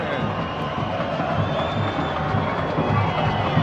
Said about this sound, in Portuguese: E a torcida canta e a gente mostra.